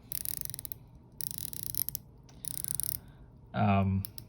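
Omega Planet Ocean 2500D 42mm watch bezel ratcheting as it turns, giving solid, chunky clicks in three short bursts of rapid metallic ticking, close and fairly quiet, followed by a brief louder thump.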